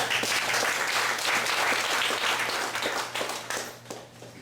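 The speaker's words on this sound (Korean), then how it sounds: "김대식 박사님 박수로 환영해 주시기 바랍니다" Audience applause welcoming a guest speaker at a peace forum, a steady dense wash of many hands clapping that fades gradually toward the end, with a low steady hum underneath.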